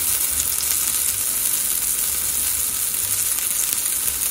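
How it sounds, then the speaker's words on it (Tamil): Spice-coated eggplant slices fry uncovered in oil in a pan over low heat, giving a steady, close sizzle that holds evenly throughout with no talking. "வெந்ததுக்கப்புறம் இப்படி ஓப்பனில் ஃப்ரை பண்ண விடுங்க"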